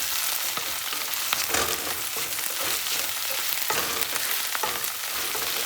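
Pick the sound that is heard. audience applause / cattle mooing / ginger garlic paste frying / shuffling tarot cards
ginger garlic paste frying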